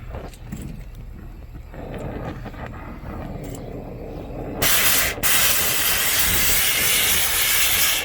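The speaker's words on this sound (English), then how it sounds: "I sprayed it down, but that might have been kind of stupid." Water sprayed onto hot metal gives a sudden loud, steady steam hiss that starts midway and runs to the end, briefly dipping once, over a low background rumble.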